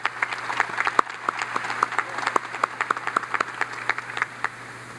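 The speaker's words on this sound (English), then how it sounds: "But let's give a round of applause for Misty Stewart." A graduate school convocation audience applauds steadily, a moderate, fairly distant patter of many hands clapping in a hall.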